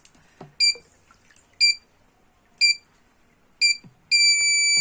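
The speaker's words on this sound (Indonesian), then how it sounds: "indikator kuning akan menyala dan buzzer akan menyala" A homemade flood detector's buzzer gives four short, evenly spaced electronic beeps, then settles into one steady continuous tone, loud and close in a quiet room.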